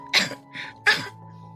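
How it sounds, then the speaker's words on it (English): A woman gives two short, dry coughs about half a second apart, separated by a softer throaty catch, in a quiet indoor room. "My wife, perhaps noticing my suspicion, suddenly started coughing"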